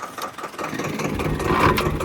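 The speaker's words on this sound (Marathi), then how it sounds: "ट्रॅक्टर प्रेमात चालू आहे." A steady low engine idles continuously, a mechanical rumble holding an even pitch with slight rises in loudness toward the end.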